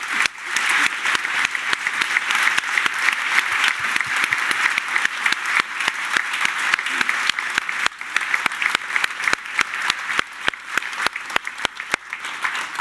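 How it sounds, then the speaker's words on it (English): Applause from an audience at an academic roundtable on corporate culture, a sustained wash of many clapping hands with sharper individual claps standing out, steady and fairly loud throughout. "I would like to ask all of you to give a round of applause to"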